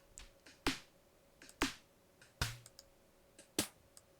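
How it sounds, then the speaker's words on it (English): A sampled clap in a drum loop in Ableton Live repeats four times at an even beat, each hit a sharp, crisp snap with a short tail, and faint softer ticks fall between the hits. "it's a nice little clap"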